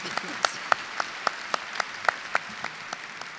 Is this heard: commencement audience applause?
yes